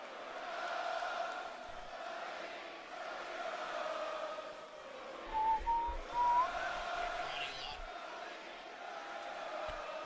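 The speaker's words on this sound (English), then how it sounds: "Why are you guys cheering for Cody Rhodes?" Wrestling crowd at Wembley Arena in London during a WWE Raw event, a steady roar of cheering with scattered whistles and a few louder swells near the middle.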